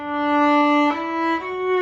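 A viola bowed in long, smooth sustained notes, one held tone sliding into a slightly higher pitch and then another, rich in overtones and played alone with no talking.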